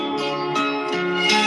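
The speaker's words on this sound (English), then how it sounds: "that's the alarm." An alarm rings with a steady, bell-like tone that sustains through its whole length, pulsing slightly in loudness and growing stronger toward the end, heard alone without talk.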